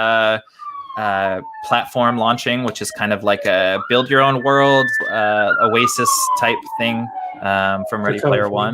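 A siren wails somewhere outside, its long tone sliding slowly downward beneath continuous close conversation between several people.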